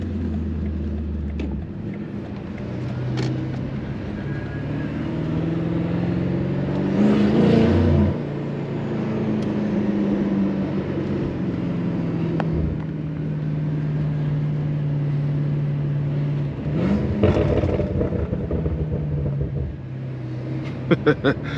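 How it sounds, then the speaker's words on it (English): A BMW F90 M5 idles and revs with a deep, loud exhaust rumble, breaking into crackling, popping burbles as it comes off throttle. Voices talk nearby at times. "That was some good burbles."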